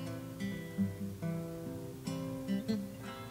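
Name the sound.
finger picking on guitar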